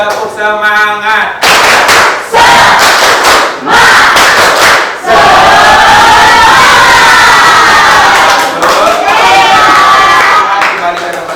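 A class of students standing and doing a rhythmic spirit clapping chant, loud group shouting and clapping in bursts, close and energetic with raised young voices.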